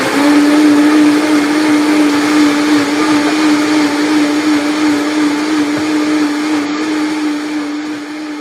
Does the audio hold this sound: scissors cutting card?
no